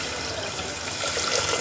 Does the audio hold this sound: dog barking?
no